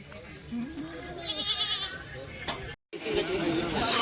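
Kathiawari goats in a pen, several bleats rising near and far under ongoing talk, with a brief dropout in the middle.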